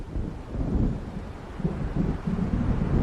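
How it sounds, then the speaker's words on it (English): Low, rolling rumbles of thunder from an approaching storm by the lake in Alan Wake Remastered, heavy and continuous beneath gusting wind noise. "It seems there's a storm coming."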